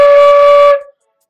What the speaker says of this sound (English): So you have to blow it in some way to make the flute sound like this.